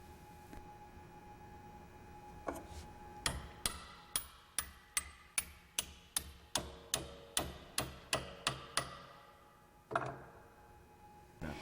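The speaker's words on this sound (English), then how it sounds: "Install the roller and tap the pin in place." A hammer taps a roller pin into place in a brake shoe assembly: about fourteen sharp metallic strikes land in a steady rhythm, close and distinct, with a couple of looser taps before and after.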